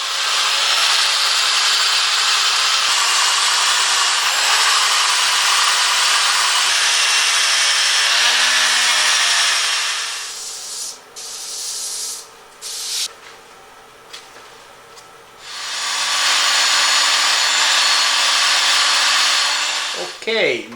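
A spinning solid wood holiday tree decoration is sanded with 320 grit paper on a lathe, a loud continuous whirring rush that stops midway for quiet handling noises, then resumes steadily.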